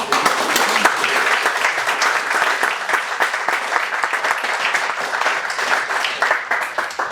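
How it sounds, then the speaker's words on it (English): An audience applauds a presenter named Tony at a business networking event, a dense, steady wash of many hands clapping at close range for about seven seconds with no break. "So, round of applause for Tony."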